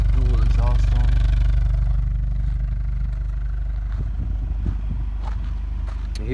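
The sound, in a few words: 2021 Hyundai Sonata N-Line engine idling, dual exhaust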